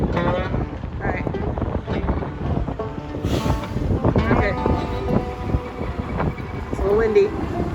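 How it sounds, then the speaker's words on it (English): Strong gusting wind from a Southwest windstorm buffets the microphone in a steady, rough roar, with people talking over it throughout. "It's a little windy."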